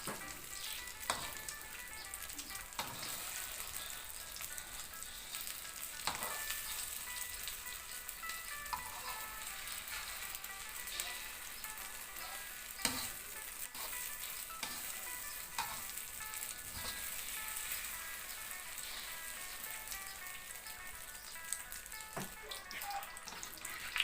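Eggs with red ant eggs frying in a pan in a rural Isan kitchen, a dense continuous sizzle with scattered sharp pops and crackles throughout, close and steady, no talking.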